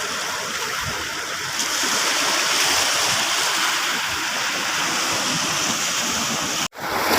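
Strong ocean waves at Sual Bagbag beach roar in a steady, loud wash of surf, continuous and close, broken by a brief dropout near the end.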